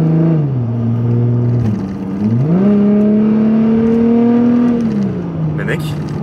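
An Audi A5 3.0 TDI V6 diesel with a stage 2 remap and automatic gearbox accelerates, its loud engine drone climbing steadily in pitch, dipping briefly at a gear change, then rising again, with voices talking over it.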